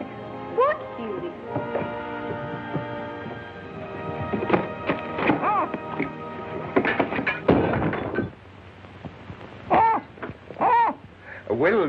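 An owl hoots several times, separate calls rising in pitch, among dialogue and household bumps in a 1938 film scene.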